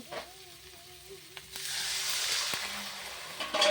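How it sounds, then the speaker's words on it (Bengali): Water poured into a pan of browned frying vegetables for a fish curry, a sudden loud rush of sizzling hiss that swells and sustains after a few quiet clinks, close up. "এবার এর মধ্যে আমি অল্প করে জল দিয়ে দেবো।"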